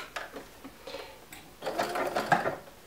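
A sewing machine puts a stitch across a fabric corner of a travel wrap with a few light isolated clicks, then a longer run of fast, close mechanical chatter near the end.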